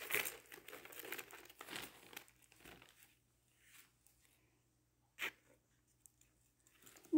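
Plastic packaging from a Temu order crinkles and rustles in bursts, loudest in the opening seconds, with a sharp crackle near the end and quiet gaps between.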